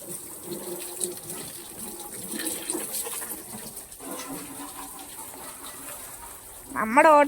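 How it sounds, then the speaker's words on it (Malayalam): A hose sprays water over an auto rickshaw being washed, a continuous splashing rush close by that swells into a louder gush near the end, with voices faintly in the background. "നമ്മുടെ ഓട്ടോ നമ്മൾ ഫുള്ള് വെള്ളം ഒഴിച്ച് നല്ലതായിട്ട് കഴുകുവാണേ"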